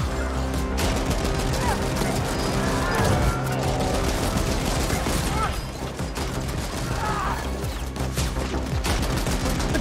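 Loud, sustained gunfire with ricocheting bullets rattles through the game The Ascent, a dense mechanical barrage with chaotic pings and impacts, and a voice briefly speaks over it.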